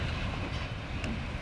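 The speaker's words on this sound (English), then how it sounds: "there goes the train" A heritage train at Railtown 1897 rumbles steadily past close by, a heavy low roar of rolling wheels and rail noise filling the whole moment.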